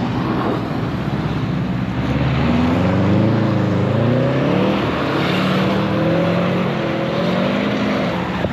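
Several cars drive around a race track on winter opening day, a continuous loud engine drone with rising and falling tones as vehicles sweep past, with no talking.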